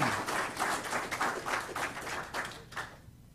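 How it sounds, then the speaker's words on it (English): A small audience claps at a signing day ceremony at TCAT Hohenwald, a modest rhythmic patter of hands that thins out and stops after about three seconds. "join me in giving Landon a round of applause"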